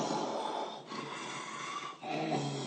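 A voice imitates deep-sleep snoring with three long, rasping inhale snores, each separated by a brief pause. The snores are loud and close, with throaty rattling.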